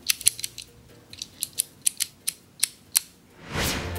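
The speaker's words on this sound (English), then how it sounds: "Did you hear the sound of the pins clicking into their special positions?" Lock pins click sharply as a key turns in a door lock, giving about a dozen crisp, evenly spaced metallic ticks close up, followed by a brief scraping rush of the bolt moving.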